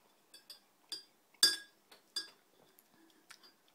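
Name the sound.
cups clinking in a coffee toast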